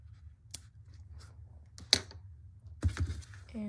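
Scissors snipping crochet yarn: a few sharp, close clicks and snips spaced irregularly, the last one longest, set against quiet room hush with no talking.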